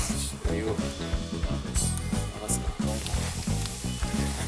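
Steady sizzling, bubbling noise from a pot of water boiling on high heat over a log campfire, continuous and close, with low tonal hum running underneath throughout.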